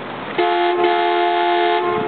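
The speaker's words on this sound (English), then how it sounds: "Pardon me while I honk my horn." A single loud, sustained horn blast from a tour boat on the San Antonio River sounds for about a second and a half, steady in pitch, close by, cutting off sharply.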